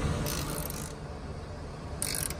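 Ratchet clicking on 13 and 15 millimeter bolts while installing a dual alternator on a Mercedes Sprinter 3.0 diesel, close, quick pawl ticks in short bursts.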